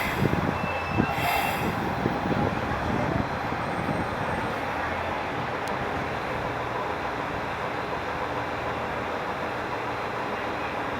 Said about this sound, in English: この後、連結作業のため列車は2回動きます